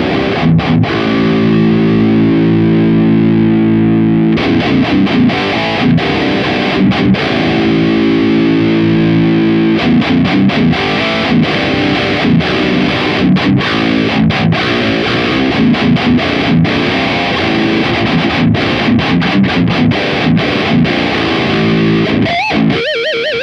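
Heavily distorted electric guitar played through a Mooer 005 Fifty Fifty 3 preamp pedal with the presence control adjusted, loud and continuous with chugging rhythm riffs and sustained chords, no talking.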